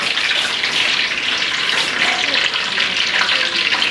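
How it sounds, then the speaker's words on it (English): Chicken drumsticks fry in hot oil for jollof rice, a dense, continuous sizzle with crackling bubbles, loud and close and steady throughout. "wait for this to get hot before we now start putting our chicken inside."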